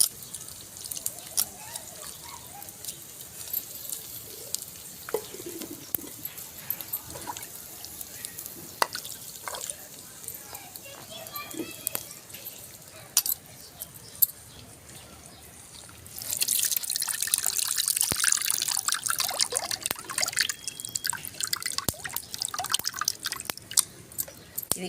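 Water pours and trickles over soaked tamarind as it is rinsed, with scattered drips and splashes at first, then a fuller, steady running stream near the end, close and fairly quiet.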